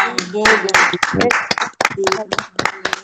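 Close, sharp clapping for Tanya at a church testimony gathering, rhythmic hand claps mixed with voices speaking over them.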